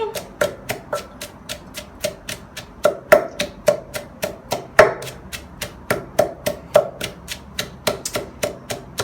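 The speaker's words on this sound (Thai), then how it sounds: "ก็โขลกพริกละ" A pestle pounds roasted chilies in a mortar with steady, evenly spaced thuds, over two dozen strikes at a brisk, regular rhythm, close and clear with no talking.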